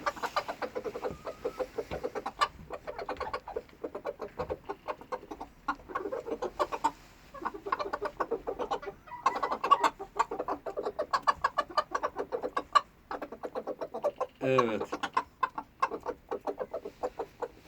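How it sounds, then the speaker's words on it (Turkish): A rooster gives a short call amid steady rapid tapping and pecking clicks, with quiet clucking in the background and no talking. "Horozumuz nasıl çağırıyor bakın."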